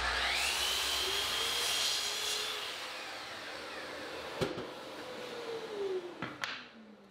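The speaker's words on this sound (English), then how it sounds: "I'm going to set up a stop block on the miter saw and cut the boards to length." A miter saw with a stop block cutting wooden boards to length, with a loud sustained whining spin-up and cut lasting several seconds, then winding down, followed by a couple of sharp knocks from handling the boards.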